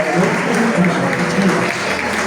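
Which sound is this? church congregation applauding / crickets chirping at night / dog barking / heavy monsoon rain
church congregation applauding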